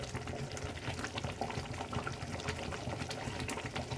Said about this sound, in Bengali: দেখুন আমার ফুটে উঠেছে।